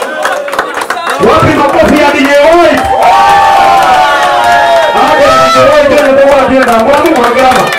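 A launch-event crowd roars for a DJ with loud sustained cheering, whoops and shouting voices that swell after a brief opening and stay dense to the end.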